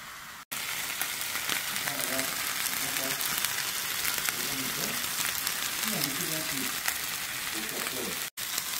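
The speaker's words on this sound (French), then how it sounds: "je mets ma viande et à feu vif de préférence, on va laisser tout ça gentiment braiser" Beef sizzles and fries in red palm oil over high heat, a steady close crackling hiss with faint voices murmuring underneath and two brief cuts to silence.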